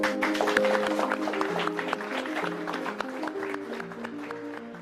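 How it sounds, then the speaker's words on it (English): Applause from the audience at a robotics kickoff event in Lyon, scattered clapping heard under sustained music tones and some background voices throughout. "Give yourselves a round of applause."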